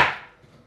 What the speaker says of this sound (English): Just have to chop them up anyhow you want